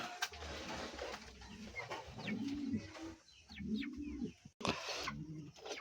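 Pigeons coo inside a farm pigeon house, with soft, rounded calls rising and falling in a few close phrases and occasional flutters and clucks between them.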